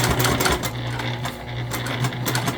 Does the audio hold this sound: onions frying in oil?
no